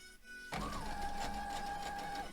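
A sewing machine stitching quilt pieces together, starting abruptly after a quiet moment and then running with a steady whirring motor hum and fast rhythmic needle chatter, close and continuous.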